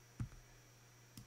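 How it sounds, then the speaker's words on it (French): Two soft, close clicks of a computer mouse, spaced about a second apart over a quiet background hum. "je clique ici"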